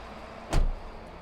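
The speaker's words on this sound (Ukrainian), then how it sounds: "І далі натискаємо пам'ять сидіння. І сидіння само під мене вже налаштоване, від'їде на ту на ту відстань, що потрібно." An electric seat in a 2021 Mazda MX-30 gives one brief motor whir lasting about a quarter second as it moves to its memory position, close and fairly quiet, with a low background hum before and after.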